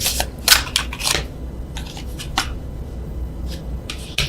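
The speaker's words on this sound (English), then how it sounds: "can't shuffle. So let me do the overhand." Tarot cards are shuffled overhand, giving a series of short, crisp riffling and slapping bursts close by, irregularly spaced with brief quiet gaps between them.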